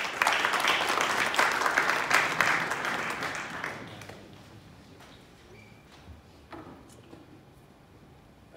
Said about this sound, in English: A big round of applause please for Russell Peltz.